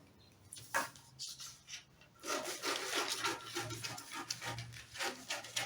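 Scissors cut through sleeve fabric for a cold-shoulder top, giving a run of close, crisp snipping and rustling strokes, quiet at first and then steady and busier.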